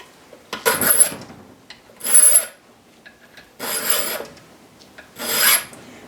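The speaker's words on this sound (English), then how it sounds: "Use a chainsaw file for this." Four rasping strokes of a chainsaw file cutting a notch in steel, each about half a second, spaced out with short pauses, close up and gritty.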